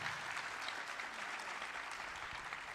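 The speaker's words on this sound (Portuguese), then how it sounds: "Vamos aplaudir mais um pouquinho, né?" An audience applauds after a talk at a spiritist congress, continuous crowd clapping at a steady level, fairly distant and soft overall.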